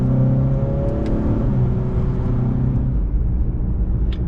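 A 2018 Honda Accord Turbo accelerates from inside the cabin, giving a loud, steady engine drone and rumble with the pitch climbing through the gears, with no talking.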